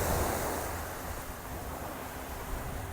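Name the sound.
ocean waves breaking on the beach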